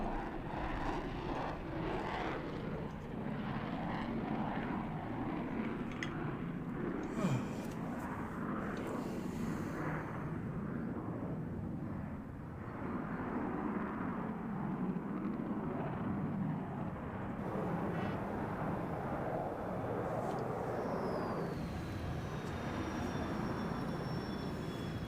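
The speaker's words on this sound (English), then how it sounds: "the F-15 Eagle is the Air Force's premier air superiority fighter" F-15 Eagle fighter jet flying at an air show, a continuous loud roaring engine rumble that swells and shifts over a long pass without pause.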